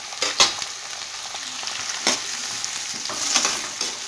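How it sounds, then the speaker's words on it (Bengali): Vegetables stir-fry in a pan with a green chilli paste for a sweet-hot vegetarian curry, a steady close sizzle broken by sharp scraping strokes of the spatula every second or so. "কন্টিনিউ নাড়াচাড়া করে ফ্রাই করব"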